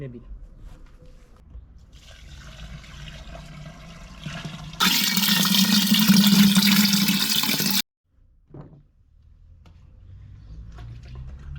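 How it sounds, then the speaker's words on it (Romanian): Water gushes from a tap into a 10-litre pot holding a kilogram of sugar for homemade rose syrup drink, a loud steady three-second rush that stops abruptly, with quieter kitchen handling and low talk around it. "Acum urmează să pun un pic de apă și să amestecăm bine."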